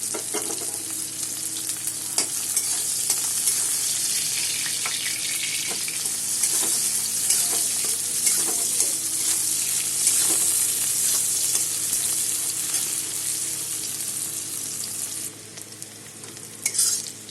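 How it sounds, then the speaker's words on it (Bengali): Two medium onions frying with black cumin (kalo jeera) in a pan, a steady sizzle punctuated by repeated stirring scrapes and clicks, with a brief clatter near the end. "পেঁয়াজ আমার মোটামুটি ভাজা হয়ে গেছে"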